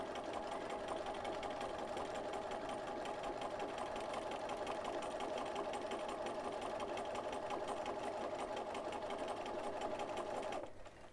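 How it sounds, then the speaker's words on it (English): A sewing machine stitching steadily during free motion quilting, a fast continuous whirring rattle held close and even for about ten seconds before stopping abruptly. "This is my favorite part of quilting, free motion quilting."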